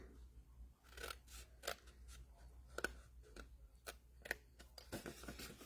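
Scissors cutting cardstock, a series of crisp snips and crunchy cuts at an irregular pace, quiet and close with no talking.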